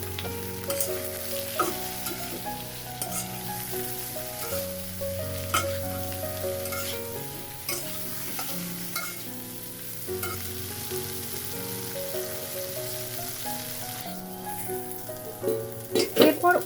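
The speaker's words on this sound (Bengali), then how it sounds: "কড়াইতে সামান্য সর্ষের তেলে নুন হলুদ দিয়ে কলাগুলো হালকা করে ভেজে নামিয়ে নিলাম" Green bananas sizzle steadily in a wok of mustard oil with salt and turmeric, with occasional stirring scrapes and clinks, under soft background music throughout.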